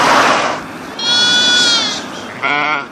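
Goats feeding among argan trees in semi-desert Morocco bleat twice, loud and close, a long wavering cry followed by a shorter one, after a brief voice at the start.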